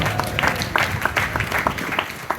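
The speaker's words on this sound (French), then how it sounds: "On peut applaudir le Seigneur ce matin pour ça" Church congregation at a morning service applauding, a short burst of mixed clapping with individual hand claps standing out against the crowd.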